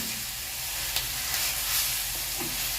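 Mushrooms sautéing gently in a pan over a low flame, a soft, even sizzle and hiss with a low background rumble and only a couple of faint utensil touches, no talking.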